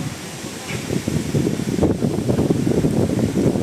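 Strong wind roars steadily close to the microphone during rain, buffeting in gusts with a broad rushing noise throughout.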